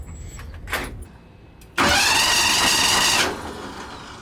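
Truck engine cranking on a newly installed starter, then catching and running loudly for about a second and a half before settling back down.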